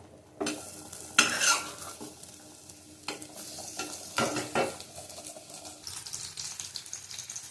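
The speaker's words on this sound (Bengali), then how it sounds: "কুমড়োটা কষিয়ে দেবো মশলার সাথে, তাহলে গলে যাবে।" Pumpkin sautéed with spices, bay leaves and five-spice tempering in a pan gives a steady sizzle with several loud scraping strokes of a spatula, close and clear, without any talk.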